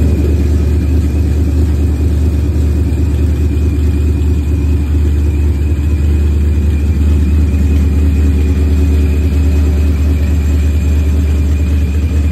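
A car with a swapped Ford Coyote V8 runs loud and close at its first startup, a steady low rumbling engine drone holding even throughout with no voices.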